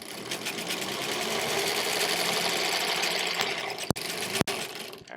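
A sewing machine runs steadily, stitching quilt blocks for a quilt-as-you-go sampler. The motor hum is close and continuous, and two sharp clicks break in near the end.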